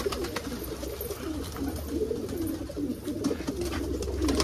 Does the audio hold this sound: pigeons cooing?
yes